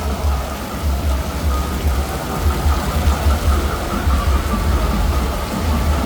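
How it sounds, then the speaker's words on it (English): Heavy rain pours steadily onto a Bangkok street during the Songkran water festival, a loud, dense hiss with a deep low rumble running unbroken throughout. "Here it rains hard."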